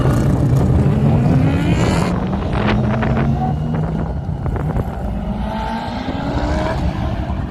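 Vintage Mazda race cars with rotary engines scream past at full throttle at Road Atlanta during a historic sportscar race, loud rising and falling engine whines close by, with wind buffeting the microphone.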